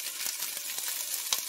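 Zucchini sizzles in a hot pan for a Tunisian spiced fish or chicken stew with potatoes and garbanzo beans, giving a soft, steady hiss broken by faint crackles and light stirring.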